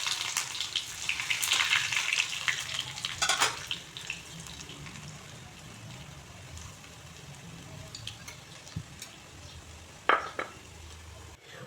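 Bay leaf, dried chili and crushed ginger in hot oil for a vegetarian Malabar spinach dish, giving a soft steady sizzle with scattered clinks and stirring taps, fading quieter after the first few seconds.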